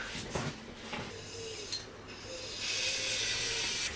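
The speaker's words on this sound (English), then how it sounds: "so we need to get some GT85 in there." GT85 lubricant being sprayed into a cable on a 1973 Honda PC50 moped, a steady close hiss of aerosol running for several seconds and growing fuller toward the end.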